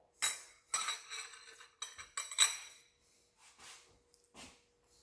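Instant Samyang hot spicy chicken noodles being mixed in a bowl, close clinks and scrapes of a utensil against the bowl in uneven bursts, with brief quiet gaps between strokes.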